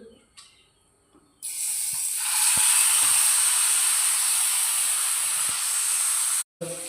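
Fish hits hot oil on a tawa over a medium flame: after near silence, a sudden loud, steady sizzling hiss starts and continues close up, broken only by a brief cut near the end.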